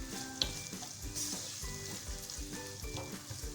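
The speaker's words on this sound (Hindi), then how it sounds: "प्याज को हम बिल्कुल लाइट ब्राउन करेंगे" Onions fry in a pan until light brown, giving a steady, faint sizzle with soft stirring scrapes throughout.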